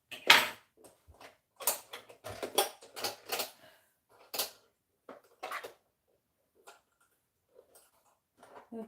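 A sewing machine runs in short bursts of rapid mechanical stitching, clattering briefly and then stopping, with scattered faint ticks and pauses in between.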